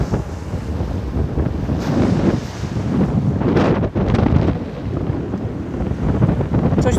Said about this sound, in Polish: Mnie nie zwieje ten wiatr.